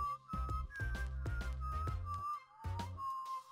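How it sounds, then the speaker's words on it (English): A sharp, sustained whistle in the video game Heartbound, sliding up and down in pitch over a steady, punchy rhythmic beat for several seconds. "A sharp whistle rings across the"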